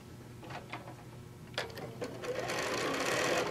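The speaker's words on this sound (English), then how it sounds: "And I'm going to sew down." A sewing machine stitches quilt pieces, starting with a few short bursts of needle clatter and then running into a steady rapid whir near the end.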